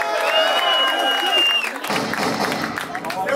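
A rap battle audience starts up with a sustained whistle and raised voices, then breaks into dense clapping and crowd noise for the remaining second and a half.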